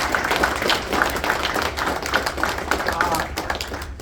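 Applause for football coaches at a high school signing day event, a steady dense wash of clapping from an indoor crowd held at an even level for about four seconds.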